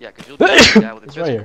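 A single close, sharp sneeze bursts out in the middle of a team's chatter during a military-style operation, with voices talking just before and after it.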